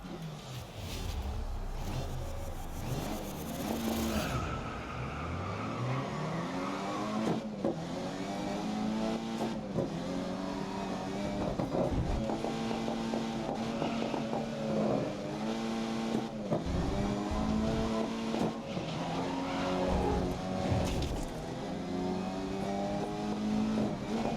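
A race car in the GRID (2019) racing game revs hard through repeated gear changes, its engine note rising and dropping steadily over about 24 seconds at a loud, constant level, with no clear tire squeal standing out.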